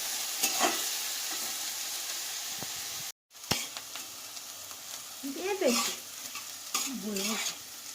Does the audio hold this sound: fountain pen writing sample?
no